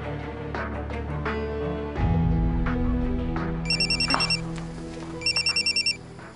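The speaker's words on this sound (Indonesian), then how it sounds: "ayo ngangkat telepon dulu ya" Telephone ringing in a dramatic scene, two short bursts of rapid electronic trilling heard over a dense background music bed.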